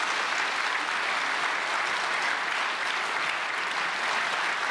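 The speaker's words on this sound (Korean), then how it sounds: "박수로 환영해 주시길 바랍니다." Steady, sustained applause from an audience at a prayer meeting for peaceful reunification, welcoming a professor to speak; even clapping continues throughout with no talking.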